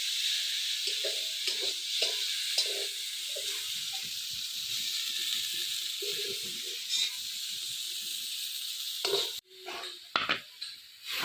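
Fenugreek greens frying in a pan on a home stove, a constant steamy sizzle and hiss with scattered stirring scrapes and clinks, ending in a few louder knocks.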